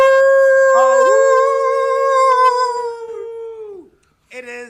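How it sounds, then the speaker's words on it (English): Dogs howl in long, loud, sustained wails that rise and then slowly fall and fade, followed by a brief second howl starting near the end. No one speaks. "Dogs."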